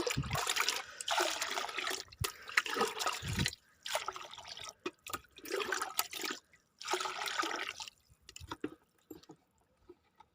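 Water splashes and gurgles as it is poured into a compost mix in several pours with short pauses between, close and fairly loud.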